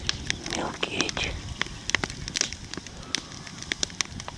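A campfire in the taiga of Yakutia burns under a pot of crucian carp, giving sharp irregular crackles and pops over a soft low rumble, with faint murmuring voices.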